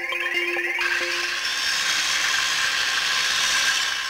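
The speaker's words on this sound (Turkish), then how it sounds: "Bu elektrikli testere sesi" A power saw whines with a mechanical rattle at first, then settles into a steady high-pitched cutting drone, loud and close.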